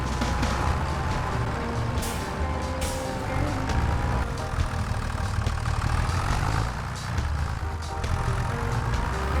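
A tractor engine in the Farming Simulator 25 video game runs at a steady, fairly loud rumbling drone for the whole stretch, holding an even idle-like hum with no pauses.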